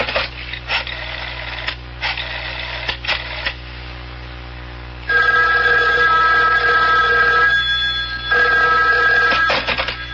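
Old-style telephone bell rings in repeated bursts inside a horror radio drama, loud and close, with quiet gaps between rings and no talking.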